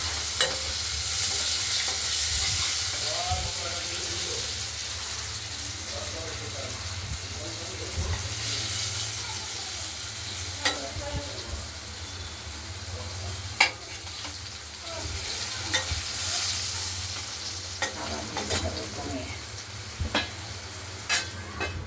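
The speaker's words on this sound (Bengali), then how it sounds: "উল্টে পাল্টে দেখছি ভাজা হয়ে থাকবে, তাই ঠিক ভাজা করে নিই।" Paneer fritters fry in a pan with a loud, continuous sizzle and crackle, broken by occasional sharp clicks as the fritters are turned.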